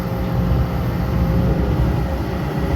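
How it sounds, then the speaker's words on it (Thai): A Kobelco SK200 Mark 8 Super X excavator with a Hino J05E engine and Kawasaki K3V pump, working on dredging a large pond, idles with a steady, even, low engine rumble, close and continuous with no talking. "เสียงเครื่องยนต์เงียบเลยครับ"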